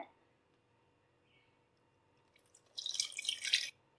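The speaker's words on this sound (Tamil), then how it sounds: "ஊற வச்ச புளி தண்ணியும் இதுல ஆட் பண்றேன்" Soaked tamarind water is poured into a pan of mutton meatball curry. After a near-silent stretch, a short, splashy liquid pour of under a second rises near the end, quiet and close.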